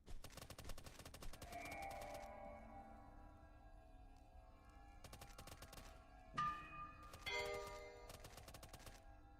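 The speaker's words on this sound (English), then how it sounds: "All I can hear is gunshots in the distance." Bursts of rapid distant gunfire crackle in quick volleys, separated by pauses, with a few metallic ringing tones mixed in; fairly quiet overall.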